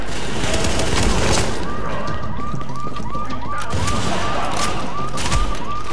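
Sustained automatic fire from an M60 machine gun in The Division video game rattles on loud and continuous, dense with overlapping shots and game noise.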